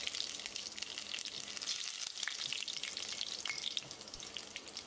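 Three dried red chilies sizzle in hot oil with mustard seeds, fenugreek and curry leaves for a Tamil-style red snapper fish curry, a steady crackling fry with small pops, close and continuous without talk.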